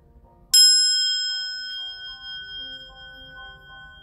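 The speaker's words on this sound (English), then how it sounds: "this little singing bowl that we're going to use today to clear the energy" A small palm-sized singing bowl struck once, a sharp metallic strike followed by a bright, sustained ringing tone that slowly decays over several seconds in a quiet room.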